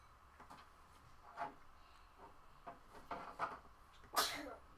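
A single sharp human sneeze bursts out near the end, loud and close, following quieter scattered clicks and small handling noises in an otherwise quiet room.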